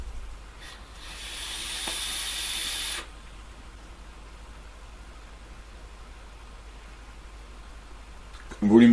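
Skill RDA dripper atomizer fired at 90 watts, giving a steady broadband vapor hiss for about two seconds that then drops to a quieter background, with a brief louder noise at the end.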